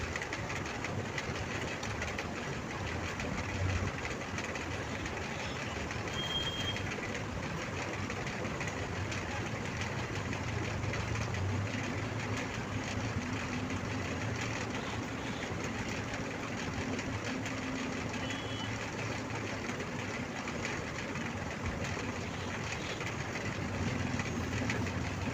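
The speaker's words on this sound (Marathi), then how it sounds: "तिन्ही बाजूने आपण शिलाई लावून घेणार आहे" Sewing machine stitching the sides of a cloth bag, a long steady mechanical hum and rattle running continuously at even loudness, close by with no talk.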